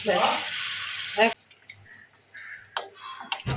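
Water poured into a nearly finished curry sets off a loud, hissing sizzle burst for just over a second, then dies to a quiet simmer with a few faint kitchen clicks.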